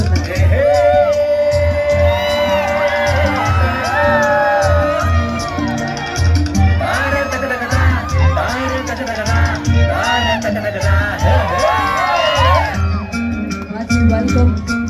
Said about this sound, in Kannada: ಹೈದರಾಬಾದ್ ಕಾಮಿಡಿ ಕಿಂಗ್ ಜೋರಾದ ಚಪ್ಪಾಳೆಯೊಂದಿಗೆ ಲೆಟ್ಸ್ ವೆಲ್ಕಮ್ ನಮ್ಮ ಅಕ್ಬರ್ ಬಿನ್ ಕಬ್ಬರ್ ಅವ್ರನ್ನ